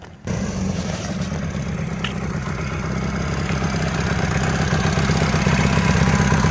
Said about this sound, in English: Got a nice little exhaust note to it.